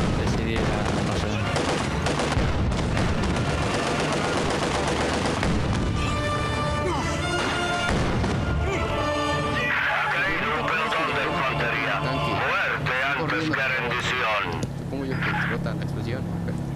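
Loud, dense battle noise of gunfire and explosions in Company of Heroes 2 runs throughout, with bursts of rapid shots and booms over constant rumble, alongside some talk.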